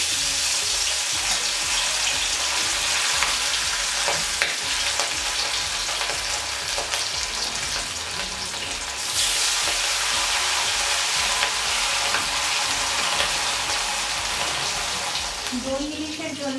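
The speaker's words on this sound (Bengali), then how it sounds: "দই ইলিশের জন্য আমি মাছগুলোকে হালকা করে ভেজে নিচ্ছি।" Hilsa fish pieces lightly frying in hot oil for doi ilish, a steady dense sizzle running throughout with occasional stirring and clinks, fairly loud and close.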